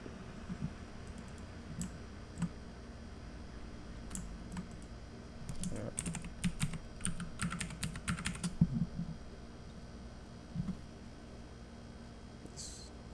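Someone types a server name on a computer keyboard, with a dense burst of quick keystrokes in the middle and scattered single clicks before and after, close and clear against a low background hum.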